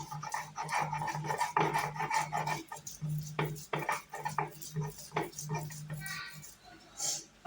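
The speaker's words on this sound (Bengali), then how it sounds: "বাদামটাও পাটায় বেটে নিচ্ছি" Peanuts are ground on a stone grinding slab with a repeated rough scraping and rubbing rhythm, steady strokes of stone on stone. Faint clinks are heard near the end.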